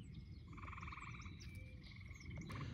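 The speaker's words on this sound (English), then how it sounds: "That frog shut the hell up." A frog near a golf putting green gives rapid, trilling croaks in short repeated bursts over quiet outdoor background noise, faint and somewhat distant.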